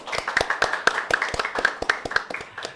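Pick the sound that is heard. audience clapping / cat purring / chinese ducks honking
audience clapping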